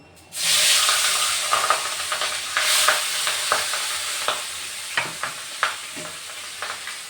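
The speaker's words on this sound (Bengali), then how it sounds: "প্রথমে মাছটা ভেজে নেব" Rui fish hits a hot pan with a sudden loud sizzle that settles into a steady hiss, punctuated by sharp spitting crackles close by.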